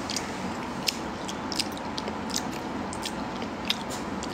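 Someone chews food close to the microphone, soft steady mastication with a few sharp crunchy bites popping out at irregular intervals.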